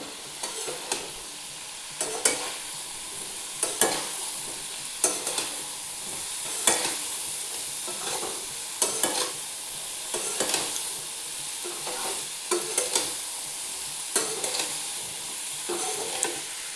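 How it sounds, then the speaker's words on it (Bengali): Boiled papaya, chickpea dal and potato are sautéed in a pan, a soft continuous sizzle punctuated by regular scraping stirs every second or two, close and alone without speech. "এবার ভালো করে কষিয়ে একটু জল দিয়ে দিয়ে কষাবো"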